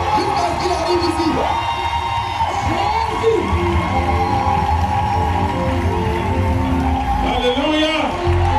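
A church congregation at a night worship service stands and cheers in acclaim, with whoops and shouts rising from a loud, sustained crowd roar that stays full throughout.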